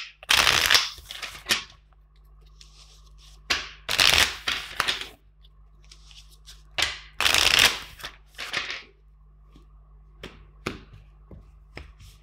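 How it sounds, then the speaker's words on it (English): Tarot cards are shuffled in repeated bursts of crisp riffling and flicking, several quick rounds separated by short pauses, close up with no talking. "Let's shuffle four times the deck."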